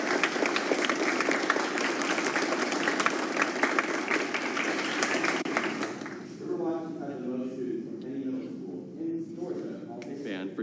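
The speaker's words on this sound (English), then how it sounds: "Let's give her a huge round of applause." Audience applause at a 6th grade middle school band concert, loud dense clapping for about six seconds that then fades as a voice begins speaking over the dying claps.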